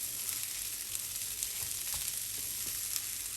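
Rice for Nigerian fried rice sizzles steadily in a hot pan, a continuous crackling fry with occasional soft stirring clicks and no talking.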